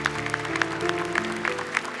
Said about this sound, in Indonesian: Boleh tepuk tangan dulu untuk Umi.